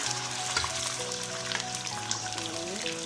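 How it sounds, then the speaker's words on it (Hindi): Goat meat fries in hot mustard oil, a continuous strong sizzle with bubbling crackle and faint spatters, close and steady for the whole stretch with no voices. "तेल गर्म हो चुका है। अब ये गोश्त हमने इसमें डालना है।"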